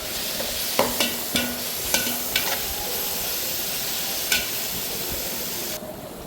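Ginger garlic paste sautés in oil for a biryani with a constant bright sizzle, punctuated by a handful of spaced scraping stirs, and the sound drops off abruptly at the end.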